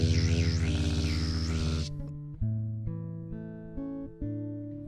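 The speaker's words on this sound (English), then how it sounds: "A bee sounds like this." A buzzing drone with a wavering pitch sounds for about two seconds, then gives way to a few plucked musical notes.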